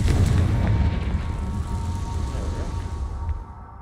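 A Confringo fire-blast spell bursts in Hogwarts Legacy, a loud booming explosion at the start that rolls into a long rumbling roar and fades out near the end.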